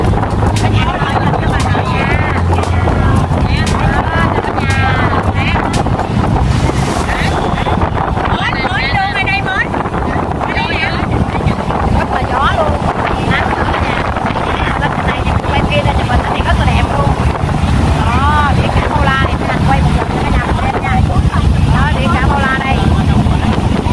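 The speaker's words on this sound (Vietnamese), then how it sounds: "Mình lên đây thì gió thổi rất là mạnh, rất là lớn luôn cả nhà, mình nghe nó hù hù hù luôn nè cả nhà." Strong wind roars over the deck of a high-speed boat travelling from Ha Tien to Phu Quoc, buffeting the microphone constantly with an engine rumble beneath, while people talk throughout.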